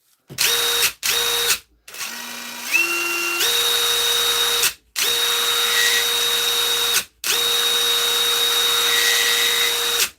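A repaired Dewalt or Hitachi power drill whines up close in several bursts, stopping and restarting with short pauses, its motor pitch stepping up as the trigger is squeezed and then holding a steady, high electric drone.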